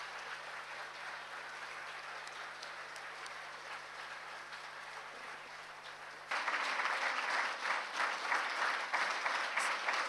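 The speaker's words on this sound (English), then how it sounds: "I suggest that we clap our hands to express our profuse gratitude to all" A hall audience at a mental health forum bursts into loud, sustained applause partway through, following a quieter stretch of steady background murmur and room noise.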